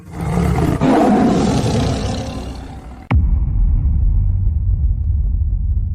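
A tiger cub guarding its food lets out a loud, drawn-out roar that cuts off abruptly, leaving a low, steady rumble afterward.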